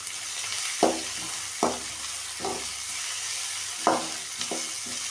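Ginger and garlic sizzle steadily in a hot pan, with a few distinct scraping stirs of a utensil at irregular intervals.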